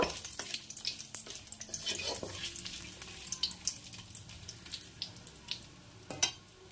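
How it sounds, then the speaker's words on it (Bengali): Three bay leaves and two dried red chillies frying in hot oil, a quiet crackling sizzle with scattered sharp pops and spatula taps, close and fairly faint. "তিনটে তেজপাতা ও দুটো শুকনো লঙ্কা ফোড়ন দিয়ে একটু ভালো করে নেড়ে চেড়ে ভেজে নেব"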